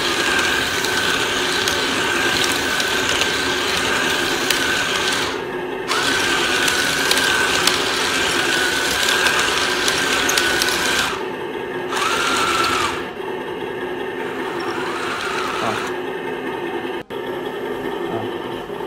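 A 1/35 scale RC ZTZ-99A main battle tank model spins in place, giving a loud continuous whirring gear-and-motor drone with a high whine that dips briefly a few times, heard alone up close.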